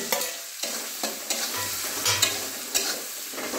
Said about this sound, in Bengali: দিলাম পেঁয়াজ বাটা নয় এমনি পেঁয়াজ কড়া, টমেটোটাও দিয়ে দিলাম এর সাথে। দেখুন আমি এটা ভালো করে একটু ফ্রাই করে নেব।